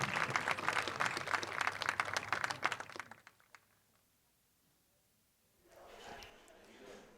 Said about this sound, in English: Let's give another huge round of applause for our 3 seniors.